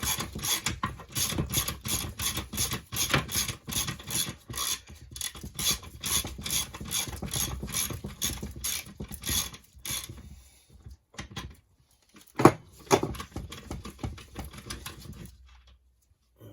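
A ratchet on an extension bar undoes a nut on a Land Rover Series gearbox during a teardown, giving rapid rhythmic metallic clicking for about ten seconds, then a pause and a few sharp clanks of parts.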